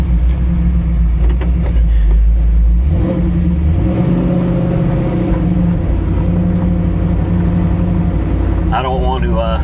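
A classic 1967 Chevy Camaro muscle car engine rumbles deep and close, then revs and pulls away with a rising, throaty note, with talking inside the car.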